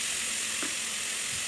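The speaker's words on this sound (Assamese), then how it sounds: "পিঁয়াজখিনি অলপ ৰঙচুৱা হোৱাত মই বাঁহৰ গাজখিনি ঢালি দিলোঁ, অলপ লাৰি।" Bamboo shoots added to lightly browned onions and fried in a pan give a steady, loud, close sizzle that hisses evenly throughout, with a faint scrape near the middle.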